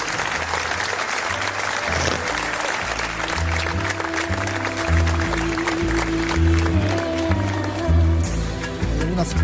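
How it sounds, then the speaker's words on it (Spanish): Audience applause at a talk on the history of Quesada, a steady wash of clapping running the whole stretch with a deep, rhythmic musical bass line playing underneath. "Pido un aplauso para él, Joaquín Cruz."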